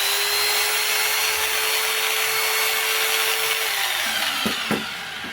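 A repaired Makita 4329 jigsaw running steadily with a smooth, even mechanical whir, loud and close, then slowing and switching off with a couple of clicks near the end.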